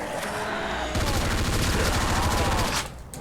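Sustained bursts of submachine gun and assault rifle fire in a Black Ops zombies mode, loud and dense, with rapid repeated shots changing character partway through before cutting off.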